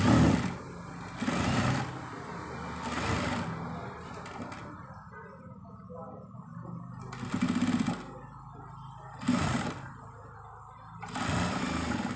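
Sewing machine stitches lace onto a patch neckline in about five short bursts of rapid whirring. Quiet pauses and soft handling noises fall between the bursts.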